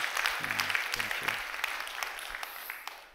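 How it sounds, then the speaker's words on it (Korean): A church congregation applauds at a weekday dawn service, a dense wash of claps filling the short stretch and tapering slightly at the end, with a few voices briefly audible underneath near the start. "우리 자녀 위해서 저기 우리 박수 한번 해주셔요"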